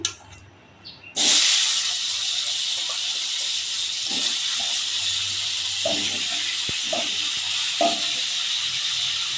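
Jackfruit and potato pieces drop into hot oil in a wok, setting off a sudden loud hiss after a quiet second that settles into a steady, close sizzle with faint clinks of stirring.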